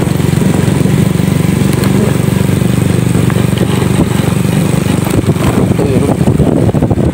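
A motorcycle engine drones loud and close as it rides a rocky banana plantation road, steady and rough with bumps and rattles from the stones.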